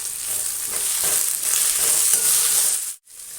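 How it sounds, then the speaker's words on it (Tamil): Onion, green chili and mint frying in a pan for cauliflower rice, a steady close hiss and sizzle with faint stirring scrapes, cutting out briefly near the end before resuming. "வெங்காயம் போடலாம். வதங்கட்டும்."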